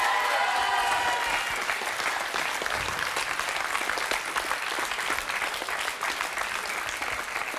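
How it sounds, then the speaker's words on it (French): Loud, sustained applause from a talent-show audience fills the hall, dense clapping that holds steady for several seconds without letting up. "On peut l'applaudir très fort."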